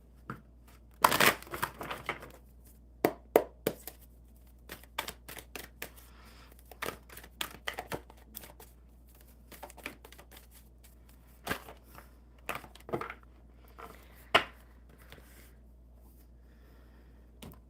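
Playing cards riffled and shuffled in a quiet room for a tarot-style reading, with bursts of crisp flutters and snaps coming in irregular clusters amid near silence.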